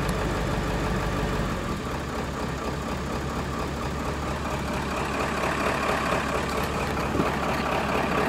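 Truck engine idling low at about 500 RPM in a Power Hungry Performance Hydra tuner whisper mode, a steady, loud, unbroken rumble with no revving or talk.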